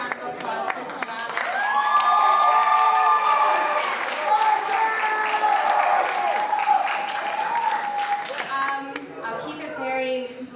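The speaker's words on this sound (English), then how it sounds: "And let's give a nice deep round of applause to John." An audience at a school Black History Month show gives a loud, swelling round of applause for John, with cheers and whoops carried over the clapping before it tapers off into voices.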